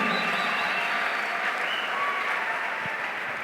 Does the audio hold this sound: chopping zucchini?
no